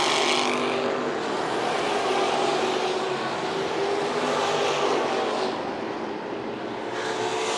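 Modified race cars roar around Tucson Speedway in a continuous, loud engine drone that swells and fades slightly as the cars pass through the turns.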